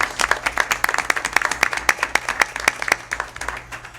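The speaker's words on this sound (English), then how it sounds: "Let's give them a great big round of applause" Applause at a village board meeting in Lynwood, Illinois: a modest room of people clapping in sharp, uneven claps for a few seconds, fairly close and fading slightly toward the end.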